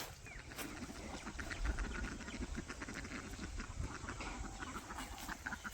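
Ducks quacking repeatedly at a village household, a steady cluster of calls over a constant outdoor background, fairly close and moderately loud.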